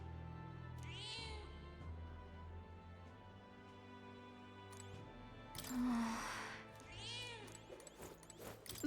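In the ending scene of the video game Metaphor: ReFantazio, a cat meows twice, a few seconds apart, each call rising and falling clearly above soft background music, with a brief louder rustle between them.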